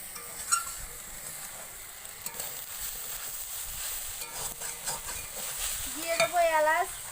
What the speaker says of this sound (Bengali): নারকেলগুলো সুন্দর করে ভেজে নিতে হবে।